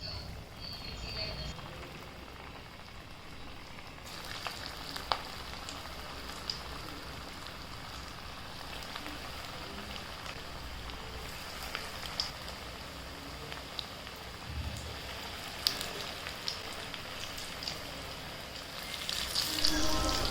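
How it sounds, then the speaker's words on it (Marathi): Kofta balls fry in oil over a medium gas flame, a soft steady sizzle with faint crackles and occasional clinks, while a person talks over it. "मध्यम गॅसवरती कोफ्ते तळून घ्यायचे, त्यामुळं कोफ्ते कुरकुरीत असे तळून निघतात"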